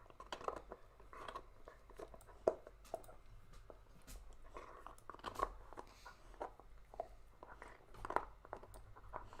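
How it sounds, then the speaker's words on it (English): A dog gnawing on a bone nearby, giving faint, irregular crunches and wet chewing clicks in uneven bursts against a quiet room. "If you hear that sound, that's my dog chewing on her bone."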